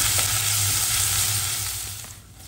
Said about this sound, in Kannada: ಆಮೇಲೆ ಕಟ್ ಮಾಡಿ ಇಟ್ಕೊಂಡಿರುವಂಥ ಈರುಳ್ಳಿ, ಎಲ್ಲವನ್ನೊಟ್ಟಿಗೆ ಫ್ರೈ ಮಾಡ್ಕೋಬೇಕು